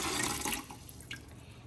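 Red food-coloured water poured into a Berkey water filter, a soft splashing trickle that fades and gurgles toward the end, fairly quiet and close, with no talking.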